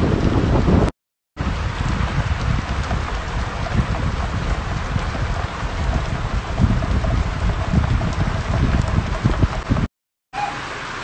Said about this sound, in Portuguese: Olha aí, galera, chuva boa.